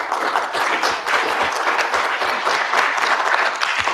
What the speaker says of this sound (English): I'd like to get another round of applause for our speaker here.